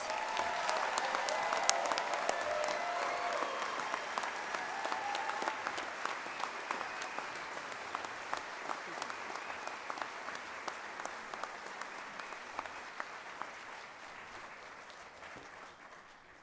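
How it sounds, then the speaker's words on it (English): Audience applause at a biomedical engineering commencement ceremony, a broad wash of clapping with sharp individual claps standing out, heard at a distance and gradually fading toward the end. "Let's give them all one final round of applause."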